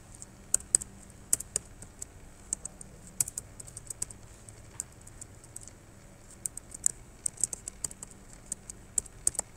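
Irregular bursts of typing on a computer keyboard while writing C# code, crisp key clicks coming in uneven clusters and pauses, fairly close and quiet against a low background hum.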